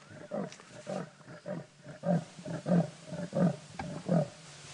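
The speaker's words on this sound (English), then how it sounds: "So that is the sound that a leopard makes. It is a rasping, roaring call" A male leopard gives a rasping, sawing roar, a rhythmic series of about eight hoarse grunting strokes, close and fairly loud with no talking.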